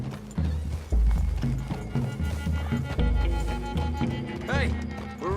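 Horses clip-clop through trees in Red Dead Redemption 2, steady hoofbeats close by with a whinny, under game music and characters talking.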